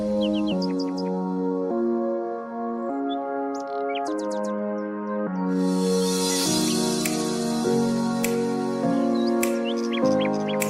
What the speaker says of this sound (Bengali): আর এই টিয়া পাখিগুলো খুব চঞ্চল ছিল